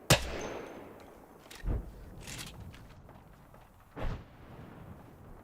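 Sparse gunshots from enemy fire in the Apex Legends battle royale shooter: one sharp crack at the start, then two more isolated, fairly distant bursts a couple of seconds apart against a quiet, low background.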